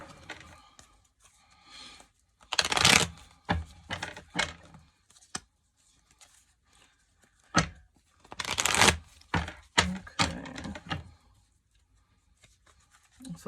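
A deck of tarot cards is shuffled up close, with two louder papery riffles and scattered softer flicks and taps between them.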